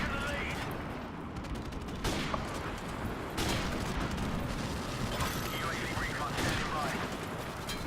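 Rapid bursts of video game gunfire crackle in a dense, steady stream of shots with mechanical clicks, heard under a player's excited voice.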